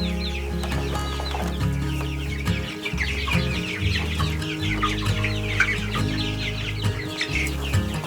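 Several 3.5-week-old chicks cluck and peep busily up close in a farm brooder, with overlapping chirps and clucks running continuously over a low background hum.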